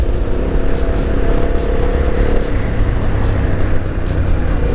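Motorcycles ride along winding serpentine roads in the Swiss mountains, a loud, close, continuous engine roar and wind rush that stays steady, with no voices.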